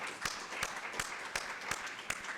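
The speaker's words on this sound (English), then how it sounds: "let's give them a nice round of applause," Audience applause at a city council meeting, a soft bed of scattered clapping with a few sharper claps standing out, fairly distant and low in level, no talk over it.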